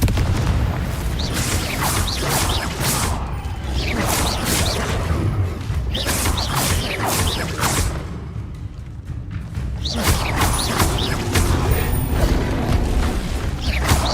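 Confringo spell blasts in the Hogwarts Legacy video game burst out as a dense, loud barrage of booms and crackling impacts with a brief lull in the middle, then more explosions.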